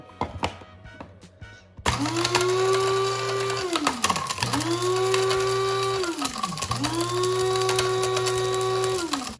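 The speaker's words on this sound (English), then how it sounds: "the grinder is designated for spices" Electric spice grinder whirring up to speed and grinding dried chipotle peppers into seasoning, in three long loud buzzing runs that sag in pitch under load and recover between brief pauses, after a few clicks and rattles at the start.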